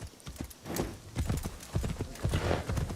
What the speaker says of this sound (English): I'm gonna get my little horsey.